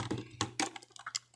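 Quiet clicks of typing on a computer keyboard during a coding session come as a short, uneven run of light keystrokes close to the microphone, with no talk.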